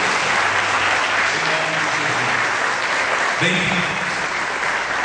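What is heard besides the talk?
applause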